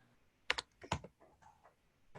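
A computer keyboard tapped in a short uneven burst of a few distinct keystrokes, close and fairly soft, then lighter scattered clicks trailing off, with no voices.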